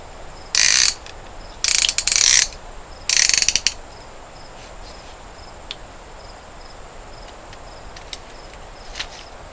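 A ratchet tightens a piston ring compressor during a Farmall 100 engine rebuild, with three short bursts of rapid metallic clicking close by, followed by quiet with faint ticks.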